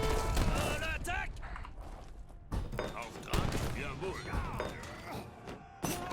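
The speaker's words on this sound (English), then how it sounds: "Oh my gosh, what are we getting hit by? More cannons." In Age of Empires III, cannon fire crashes in repeated heavy volleys and thuds against a fort, with someone talking over the barrage.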